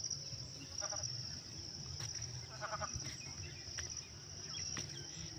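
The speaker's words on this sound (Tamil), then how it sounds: "தவளை கத்துச்சு பாருங்க." Frogs croak near a rain-filled farm pond, a faint insect-like chirring in short repeated bursts over a steady background hum, with a few sharp clicks scattered through.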